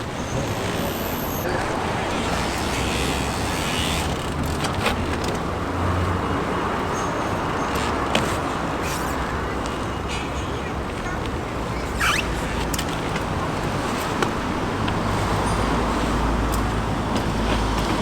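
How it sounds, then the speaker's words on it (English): Steady road traffic on an Aberdeen street, with cars passing in a continuous broad rumble and a few sharper brake or engine bursts, fairly close and constant throughout. "So many cars."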